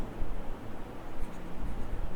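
Pen writing on paper during a geometry lesson, a continuous close scratching with short strokes and no talk.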